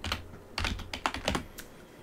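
A handful of crisp keystrokes on a computer keyboard, close and quiet, tapped in an uneven quick sequence over about two seconds.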